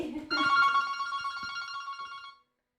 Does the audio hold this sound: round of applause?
no